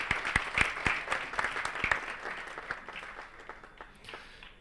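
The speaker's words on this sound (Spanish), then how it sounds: "Pues también un fuerte aplauso al robot electoral" Applause for a line-following robot at a robotics competition: sharp, distinct claps from a modest audience, strong at first and then thinning and fading over a few seconds.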